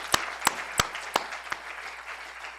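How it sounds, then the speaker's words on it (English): Applause from an audience at a CUNY event, with a few loud separate claps standing out over a steady wash of clapping that fades over a few seconds. "big round of applause"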